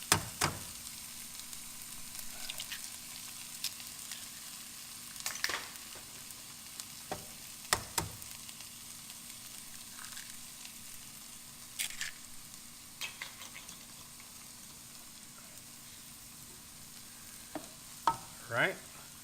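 Eggs frying in a pan with smoked fish fried rice, a quiet continuous sizzle with scattered spatula scrapes and taps spread across the clip, close by and without talk.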